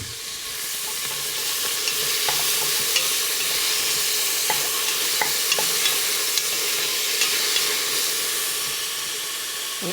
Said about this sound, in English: So I'm going to add the onions.